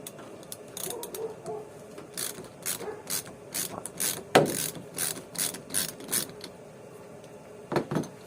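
Rapid ratchet clicking from a 27mm socket wrench loosening a large nut on an Opel/Vauxhall car during windshield replacement, in repeated bursts of quick clicks with brief pauses and a louder knock midway.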